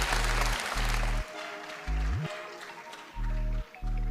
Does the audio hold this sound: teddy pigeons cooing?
no